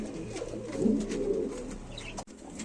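Large fancy pigeons kept in a cage give low, throaty coos that rise and fall close by, with a brief rustle and a sharp knock near the end.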